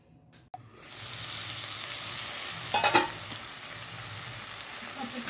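Soft bele fish steaming with a little water in a pan over medium heat is stirred gently, giving a steady close sizzle with a brief louder scraping stir midway.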